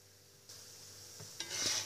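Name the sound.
pastry frying in an oiled pan, being flipped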